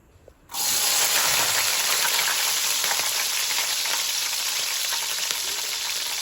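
Green chillies dropped into hot oil burst into a loud, sudden sizzle after a brief quiet start, then hold a dense, steady crackling fry close by with no talking.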